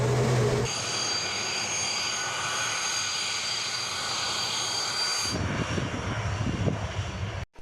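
Steady, loud roar of a Su-25 Frogfoot jet aircraft engine with a high whine, sustained throughout and shifting to a rougher rumble near the end, with no voices.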